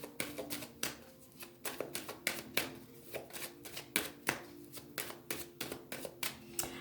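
Oracle cards being shuffled and cut by hand, a steady run of crisp riffling slaps and flicks repeating at a brisk, even rhythm, close and clear with no talking.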